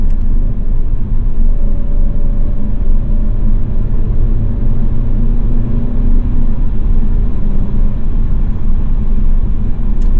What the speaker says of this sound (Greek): αν επιλέξω εγώ με το paddle τώρα να κατεβάσω ταχύτητα, το κυβότιο θα επακούσει